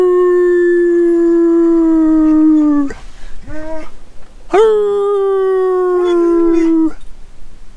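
A dog howls in long, sustained, wavering tones, two drawn-out howls with a brief pause and short yelps between, close and loud.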